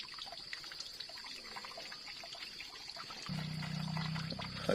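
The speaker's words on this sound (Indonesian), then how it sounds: "Masukkan aja air dalam tuh nanti biar habis." Water pours into a 16-liter sprayer tank, starting as a faint trickle under a steady high hiss, then swelling into a louder, fuller gush of liquid near the end.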